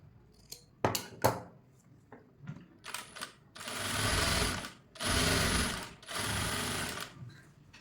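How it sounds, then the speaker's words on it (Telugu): Sewing machine stitching a blouse, running in three sustained bursts of about a second each, separated by short pauses and preceded by scattered clicks and handling knocks. It is close and fairly loud, with no talking. "ఈ హ్యాండ్ని ఇలా అడ్జస్ట్ చేసుకుంటూ ఇలా స్టిచ్ చేసుకుంటూ వెళ్ళిపోవాలి"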